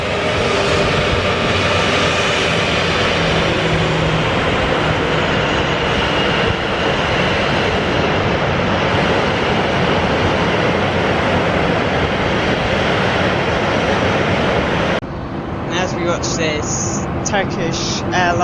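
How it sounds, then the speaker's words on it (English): A Turkish Airlines Airbus A330 coming in to land at Amsterdam Schiphol, a sustained loud jet rumble that cuts off abruptly near the end, with a voice talking over it. "Turkish Airlines Airbus A330 coming into land."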